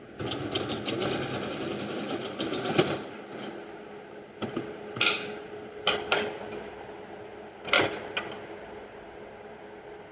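Sewing machine stitching a seam on a blouse, close rapid mechanical chattering in several short runs separated by pauses and soft handling clicks, moderately loud with no talk.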